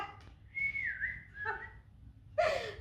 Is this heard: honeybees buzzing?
no